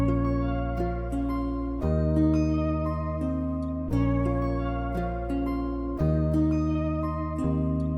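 A soft guitar loop with a Scarbee Rickenbacker bass sample playing root notes beneath it, built in FL Studio and Kontakt; mellow plucked chords repeat in a steady two-bar cycle at moderate volume, no talking.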